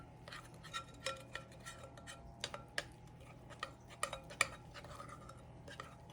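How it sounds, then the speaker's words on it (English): Thick apple crumb cake batter mixed by hand in a bowl, with soft scraping and irregular light ticks and clinks of a utensil against the bowl, quiet and close with no talking. "I'm just going to mix it so all the flour is incorporated into"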